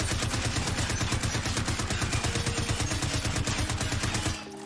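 Sustained automatic gunfire rattles in a rapid, steady stream from a recoil-heavy weapon in Call of Duty Warzone, loud and close, cutting off abruptly near the end.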